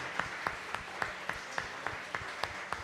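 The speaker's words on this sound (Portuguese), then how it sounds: "Aplauda o Senhor com alegria." A church congregation claps in steady rhythm, sharp hand claps landing about every quarter second over a soft wash of crowd noise, fairly distant and even in level.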